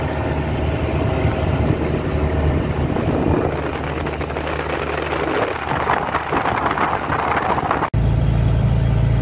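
A car on a road trip through Espírito Santo drives on with a steady, close engine rumble, and the note shifts abruptly near the end.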